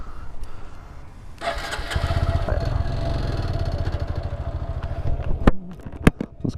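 A Honda Grom motorcycle engine starts and revs for a first gear wheelie, a steady, pulsing close-up burble that swells, then cuts off into a few sharp knocks.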